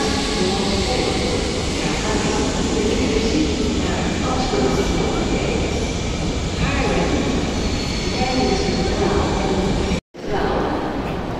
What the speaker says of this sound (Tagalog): yung sasakyan namin tren